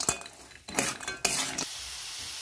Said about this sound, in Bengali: দিয়ে ভালো করে সবগুলো একসাথে ভালো করে একটু হালকা করে ভেজে নামিয়ে নেব।